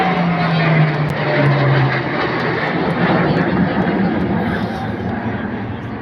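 Indian Air Force and Navy military aircraft fly past in the Varuna formation at the Republic Day parade on Kartavya Path, a loud steady engine roar filling the air throughout with a crowd murmuring beneath it.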